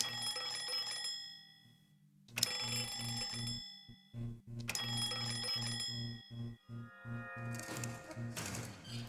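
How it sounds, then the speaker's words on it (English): A bell button pressed in Lorelei and the Laser Eyes rings out as bright, sustained chime strikes, three separate bursts over a low pulsing game music drone. "We got a bell button here."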